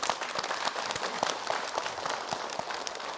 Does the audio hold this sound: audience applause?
yes